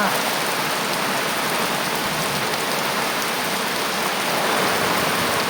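Steady, heavy rain pours down on a farm plantation in a continuous, dense hiss with no pauses.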